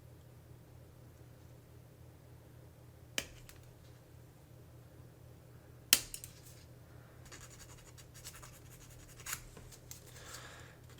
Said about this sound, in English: I'm going to just go ahead and snip these ends off here